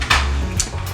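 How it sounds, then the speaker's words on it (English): A puppy confined in a small kennel cage plays noisily with its toys, producing close, irregular clatters, knocks and rattles in quick bursts with no talking. "I have a puppy in a little kennel cage thing, and he's making a ton of noise playing with his toys"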